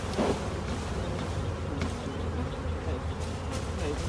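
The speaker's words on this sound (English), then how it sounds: "There's a lot of bees." A bee swarm knocked into a bucket buzzes as a dense, continuous hum of many bees close by, steady and unbroken throughout, with faint rustling and no talk.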